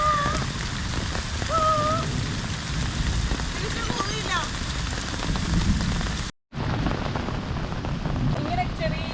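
Heavy rain falling steadily on a village lane in Kerala, a dense hiss of drops on surfaces with occasional bird chirps, briefly cut silent for a moment before resuming.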